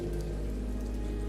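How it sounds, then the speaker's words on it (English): Steady rain falls in the video game Ender Lilies, a dense, even patter on surfaces with a low rumbling bed underneath. "But then the rain began to fall."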